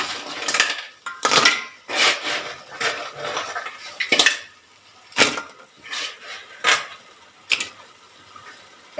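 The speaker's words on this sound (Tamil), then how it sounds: "நண்டெல்லாம் சேர்த்துருவோம்." Small crabs being tipped into a large cooking pot in a home kitchen, heard as a series of sharp, clattering knocks and scrapes against the metal, roughly every second, close and moderately loud with quiet gaps between them.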